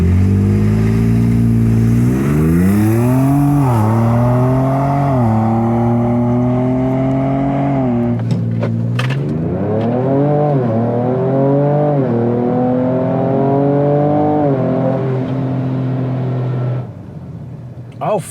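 A tuned Ford Ranger Raptor accelerates flat out during a 0-60 run, its engine roaring up through repeated gear changes, each pull rising in pitch before a short shift drop, loud and near, then easing off at the end.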